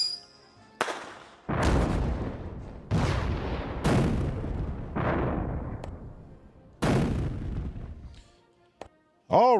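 A run of heavy booming explosion effects, about six deep blasts in close succession, each with a rumbling decay, followed by a few softer bursts at the end.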